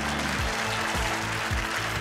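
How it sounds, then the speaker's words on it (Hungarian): Applause from a live audience rises at a Hungarian entertainment show, with dense, continuous clapping that stays fairly quiet and even throughout, alone and without talk. "Taps!"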